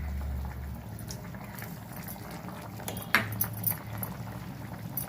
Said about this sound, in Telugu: ఎసరు మరుగుతుందండి.